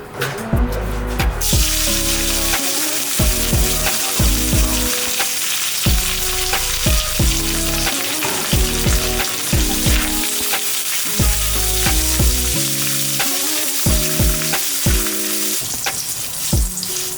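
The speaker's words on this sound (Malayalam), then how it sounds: "കറിവേപ്പില നല്ലതായിട്ട് വറുത്ത് കോരി എടുക്കണം." Curry leaves fry in hot oil for a chicken curry, giving a loud, continuous sizzle with crackling pops and occasional scraping stirs throughout, with no talking.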